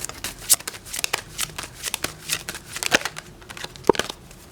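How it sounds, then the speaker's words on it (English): A Native American oracle card deck being shuffled and cards drawn: rapid papery riffles, flicks and soft snaps in irregular bursts, close and moderately loud, with no talking. "let me get one card from, about 3 cards from the Native American deck"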